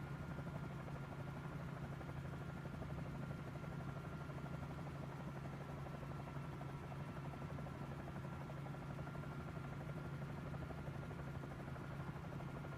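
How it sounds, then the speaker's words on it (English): Steady helicopter rotor and turbine drone of the Sea Star flying in Microsoft Flight Simulator 2024, a constant buzzing hum with a strong low tone, unbroken throughout with no talk. "This is just a great helicopter for sightseeing because you have really no obstructions in the cockpit"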